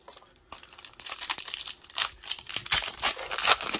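A trading card pack wrapper, from a 2021-22 Chronicles basketball blaster box, crinkles and tears open up close, a dense run of loud crackling rips and rustles that builds after a brief quiet start.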